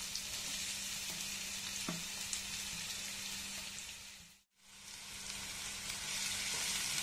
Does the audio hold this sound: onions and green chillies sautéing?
yes